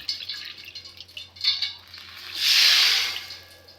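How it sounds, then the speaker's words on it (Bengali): A bowl of water poured into a pan holding flour, sugar and cracked cardamom, first light trickles and drips, then a soft steady gushing pour near the end. "আর এক বাটি জল দিয়ে দেবো"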